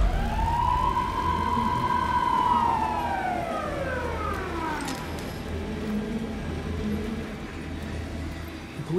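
A police car siren in the video game Alan Wake 2 wails in a long rising and falling sweep, loud and close over a low rumbling background.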